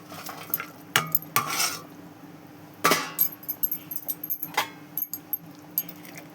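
Fish pieces added to a pot of softened potato curry, with metallic clanks of a utensil on the pot, then a run of quick stirring knocks and scrapes, close and moderately loud.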